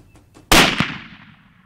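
A single loud, sharp gunshot cracks out during an African safari hunt, then fades away over about a second.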